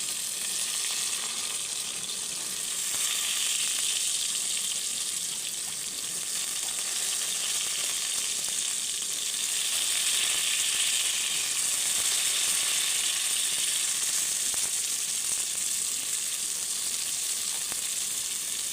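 Soaked soya chunks and potato fry in a cooker for a soya chunks pulao, giving a steady, close crackling sizzle that runs unbroken throughout with no talking.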